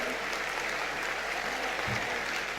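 Musicians get a round of applause at a Morari Bapu honour ceremony in Gujarat: a soft, even wash of clapping from a distant crowd, continuous and unbroken.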